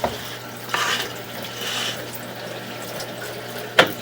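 Water runs and gurgles through a sewer line during a house drain inspection, a steady wash with a few sharp splashy bursts, close and fairly loud with no talking.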